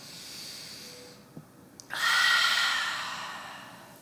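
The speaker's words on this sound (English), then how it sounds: "We'll take one more breath here." A deep breath during a yoga class: a soft, slow inhale followed by a longer, louder airy exhale, close and alone against a quiet room.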